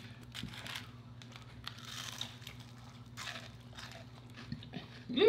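Crunchy bites and chewing of Dairy Queen fried onion rings, close and fairly quiet, with crinkly bursts over a steady low hum and a louder rustle near the end.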